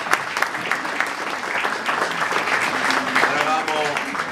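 Audience in a theatre applauds steadily, a dense wash of clapping that holds at an even level for several seconds, with faint voices mixed in.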